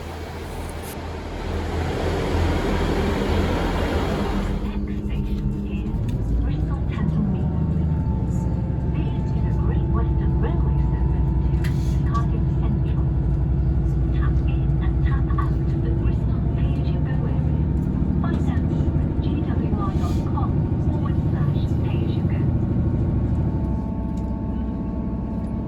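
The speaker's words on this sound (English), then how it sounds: "A 4-carriage Class 158 formation with 158765 leading is our ride all the way back to Cardiff Central." A four-carriage Class 158 diesel multiple unit running toward Cardiff Central, with a steady low rumble and broadband road-like roar filling the interior throughout, rising after a quieter start and holding constant.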